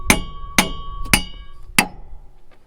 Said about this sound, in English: Get my handy hammer here.